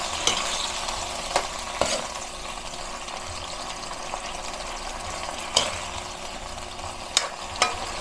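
Chicken gizzards and liver frying in a pan with soy sauce, stirred with a few sharp scrapes and clacks of a utensil over a steady, close sizzle.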